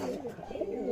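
Pigeons, a black-tailed male and a white female, giving a soft, close, low cooing that rises and falls over a second, fairly faint.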